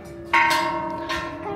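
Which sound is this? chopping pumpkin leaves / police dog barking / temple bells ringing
temple bells ringing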